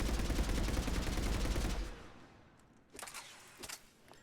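Assault rifle fired in bursts in the shooter game Mass Effect 3, a dense rapid volley that stops abruptly and is followed by a couple of short, sharper bursts further off.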